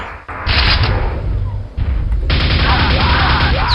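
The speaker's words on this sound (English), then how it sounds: "He's still shooting me." Loud, sustained gunfire and explosive booms from the video game Quake fill the space almost continuously, with a short break before the firing resumes at full intensity.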